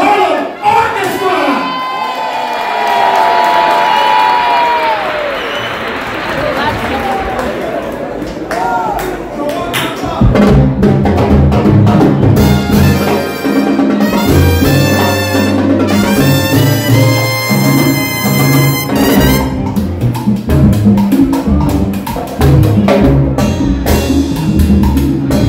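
A concert crowd at SOB's cheers and shouts, loud and dense, then the band's music swells in over the ongoing crowd noise.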